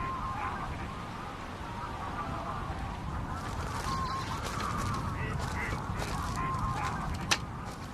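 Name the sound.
waterbirds calling on a lake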